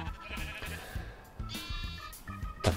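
Sheep bleating inside a modded Minecraft farm pen, several short nasal bleats overlapping in an uneven rhythm, close and fairly loud against faint game ambience.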